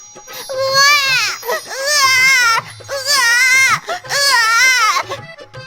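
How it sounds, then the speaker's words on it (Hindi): A baby wails loudly in long, rising-and-falling cries, four sustained bursts with short gasping breaks between them, close and insistent. "अंडा फूट गया और तेज रोशनी के साथ बच्चे के रोने की आवाज सुनाई देने लगी"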